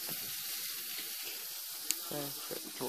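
A torch-heated micro coil on a SmokTech Octopus RDA vape atomizer sizzles and hisses steadily under running tap water, a close, continuous wash of noise with faint background murmur.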